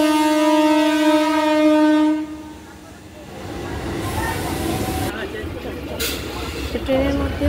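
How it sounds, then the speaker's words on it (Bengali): A train pulls into a station, opening with a loud, sustained horn blast before settling into a nearer rolling rumble of wheels and carriages. "ট্রেন আমার আসছে।"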